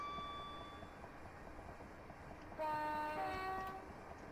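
A train horn blares partway through at a whistle board before a level crossing near Teston halt on the Medway Valley line, a sustained two-tone blast over the steady rumble of the moving train.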